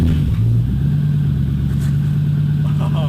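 Lexus LS400 with a turbocharged 1UZ-FE V8 idles steadily through a side pipe exhaust, a deep loud burbling drone with a slight blip of revs near the start and again at the end.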